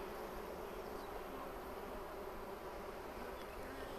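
Bees buzz in a dense, continuous hum while a beehive is opened for inspection, a faint and steady swarm drone with no breaks.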